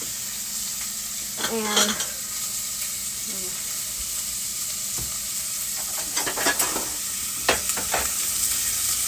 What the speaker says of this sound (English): I have my oil that's nice and hot, and I'm going to sweat my onions